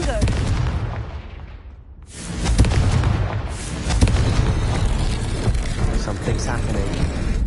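Confringo blasting spell explosion in Hogwarts Legacy, a dense roar of booming blasts that cuts out briefly and then bursts back loud, continuing as a sustained rumble with sharp cracks.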